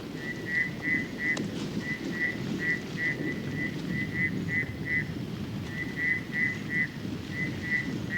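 A bushveld rainstorm gives a steady, dense hiss of rain, with repeated high chirping calls pulsing through it at a regular rhythm.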